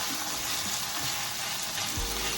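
Okra sizzles and crackles steadily in a pot while it is stirred through, with a low scrape near the end.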